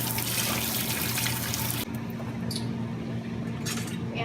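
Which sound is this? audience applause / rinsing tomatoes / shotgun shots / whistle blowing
rinsing tomatoes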